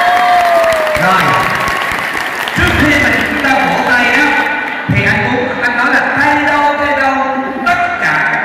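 A tour group aboard a bus claps loudly in a contest for a prize, a dense, sustained burst of applause running throughout with voices and shouting mixed in.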